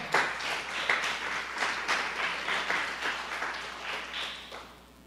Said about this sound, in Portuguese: Você pode aplaudir ao Senhor com o seu melhor